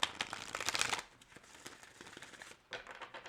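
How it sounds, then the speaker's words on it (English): Tarot cards being shuffled by hand: a dense, loud riffling burst at the start, then quieter scattered card slaps and rustles, with a second shuffle flurry near the end. "One more shuffle."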